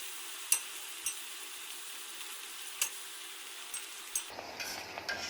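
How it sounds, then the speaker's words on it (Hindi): Kuttu aloo puri frying in hot oil gives a steady soft sizzle with a few sharp crackles and pops, fairly faint and close, with no talking. "दूसरी तरफ पलटी करेंगे और दोनों तरफ से गोल्डन ब्राउन करेंगे, तब तक इसको फ्राई करेंगे।"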